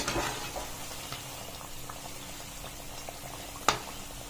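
Bondalu, deep-fried batter snacks, bubble in hot oil with a steady close fizzing crackle throughout, a brief louder clatter at the start and a sharp knock near the end.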